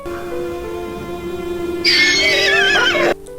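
A donkey in the video game Crimson Desert brays loudly and close, a sustained tonal call that rises into wavering, honking cries before cutting off abruptly.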